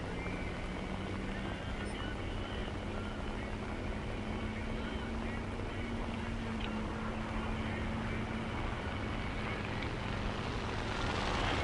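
Steady, loud droning engine roar of a bomber aircraft in the War Thunder combat flight game, continuous throughout with a faint tonal hum, no pauses.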